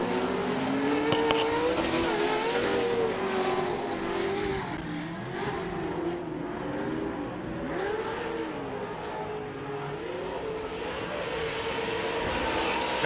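Pro2 short course race trucks race on a fairground dirt track, their engines roaring loudly and continuously as they rev and shift and pitch rises and falls while they pass.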